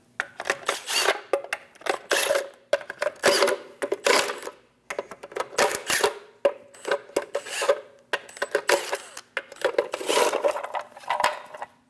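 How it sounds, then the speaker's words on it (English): Lug nuts being spun off a hubcap with a 22mm socket on a 2003-2025 Chevrolet Express 2500, a series of rapid ratcheting and rasping bursts separated by short pauses, close and loud. "Using a 22mm socket, remove all of the lug nuts for the hubcap."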